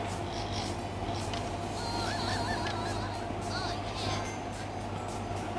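Birds honk and chirp in the Jungle Adventures 3 video game, with warbling calls rising above a steady, loud game soundtrack and background hum.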